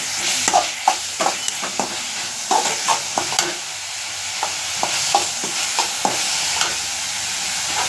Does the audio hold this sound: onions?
yes